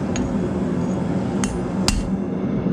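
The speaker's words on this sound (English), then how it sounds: "tapping on this rivet to get it to where it won't come out" Hammer tapping a rivet on blacksmith-made tapered tongs, three sharp metallic strikes spaced apart over a steady loud background roar, likely the forge.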